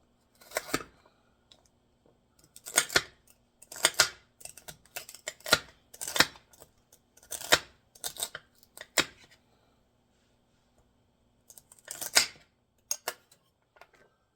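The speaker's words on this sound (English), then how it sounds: "Okay, so I'm going to cut up some celery here. I'm going to just chop it." Three celery stalks being chopped with a knife, bursts of crisp crunchy cuts in irregular clusters separated by short silences, close and fairly loud, no talking.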